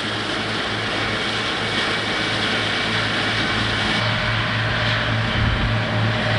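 Tractor with forage machinery cutting grass along a hedgerow in a field, a steady loud engine drone with a low rumbling hum that holds continuously throughout, close and unbroken.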